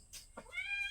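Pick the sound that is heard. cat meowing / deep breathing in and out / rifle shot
cat meowing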